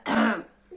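A reader's voice imitates a turtle clearing its throat: one short, close, raspy throat-clearing burst that fades within a second.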